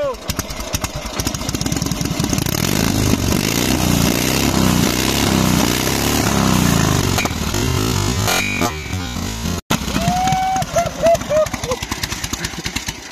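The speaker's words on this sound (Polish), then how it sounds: "Procedura startu maszyny rolniczej." The engine of a Sokół 1000 agricultural machine turns over and runs, making a loud, rough, popping mechanical chatter close by. The sound stutters near the end, and a short rising whistle-like tone follows.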